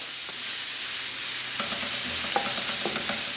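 Celery, parsley and vegetables cooking in a chickpea stew pot, a soft steady sizzle with a few light utensil knocks, fairly quiet and close, no voices.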